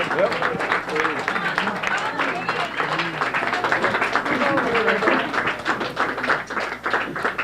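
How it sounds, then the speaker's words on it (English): Audience applauding at a trivia awards ceremony, a steady, dense patter of many hands clapping throughout, close and loud, with some voices mixed in. "It's really nice to have such beautiful applause."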